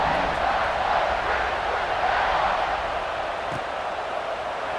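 A steady, dense roar from a big stadium crowd fills a college football video game featuring Ohio State as the ball is set for kickoff, holding loud and continuous with no clear breaks.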